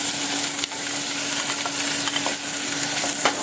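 Vegetables fry in a pot for a spicy veggie soup, giving a steady, close hiss and crackle with occasional stirring scrapes and clicks throughout.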